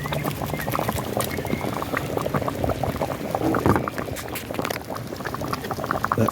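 Corned beef soup boils and cooks down in a pot, with steady close bubbling and popping throughout and no voices.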